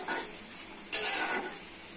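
Spices being stir-fried with yardlong beans and potatoes in a pan, with a soft, quiet scraping and stirring and a faint sizzle, including one brief brighter clink of a utensil against the pan.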